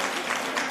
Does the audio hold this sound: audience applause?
yes